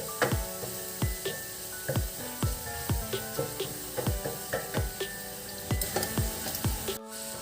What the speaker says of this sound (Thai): แล้วก็เอาไปผัดอีกรอบนึงค่ะ